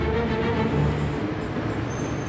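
Dense car traffic on highways and ring roads in central Beijing, a steady loud roar of engines and tyres with no distinct breaks, no talking.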